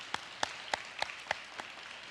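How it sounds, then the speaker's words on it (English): At a fourth-grade honors award program, a handful of slow, evenly spaced claps ring out faintly, about six distinct hand claps in two seconds rather than full applause. "One more round of applause for all our award recipients."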